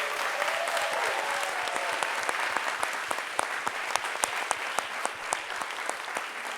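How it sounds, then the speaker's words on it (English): An audience at a university dissertation showcase claps steadily, a dense run of many hands applauding together at moderate loudness, with no voices standing out. "One last big round of applause."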